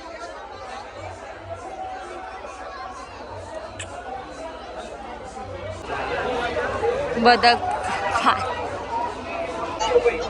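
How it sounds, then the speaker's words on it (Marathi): Crowd chatter and hubbub at a village fair market during a palanquin procession, a steady babble of many voices that swells louder partway through, with nearby talk mixed in. "इथं सगळं बाजार भरला इकडेच गर्दी दिसले"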